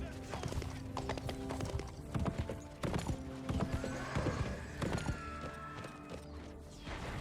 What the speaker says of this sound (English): The horse definitely makes it easier to keep up with him.